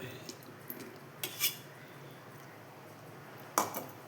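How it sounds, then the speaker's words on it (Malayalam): Jaggery melted into a jackfruit seed payasam mixture being stirred in a pan, with a few faint scattered spoon clinks and scrapes against the metal, a sharper knock near the end, over quiet background. "എല്ലാം കൂടി ഇളക്കട്ടെ. നല്ലവണ്ണം മിക്സ് ചെയ്യണം."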